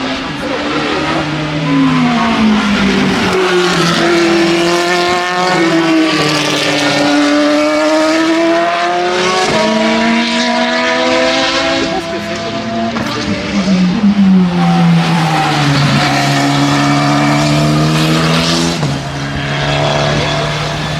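A race car engine at a motor festival at the Croix-en-Ternois circuit in France roars and revs loudly and continuously, pitch climbing and dropping through repeated gear changes over about twenty seconds.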